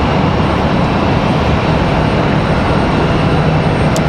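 A Delta A320 airliner arriving from Minneapolis at Raleigh-Durham airport gives a loud, broad, continuous engine roar that holds steady and close throughout, with no talking.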